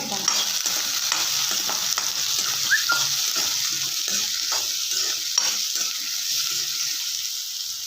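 Onion and curry leaves frying in a pan, a steady close sizzle with soft scraping stirs repeating throughout, no talking.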